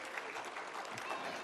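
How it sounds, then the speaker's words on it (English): An audience at a school annual day program claps for the teachers, a dense, even wash of crowd applause heard faintly from a distance. "So can we clap for the teachers once again?"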